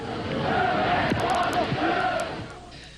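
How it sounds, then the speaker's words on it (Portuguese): A crowd of football fans chants and sings together in the rain at a training session, loud and sustained, with a few sharp knocks and claps. "a torcida continua lá, cantando na chuva, fiel e confiante"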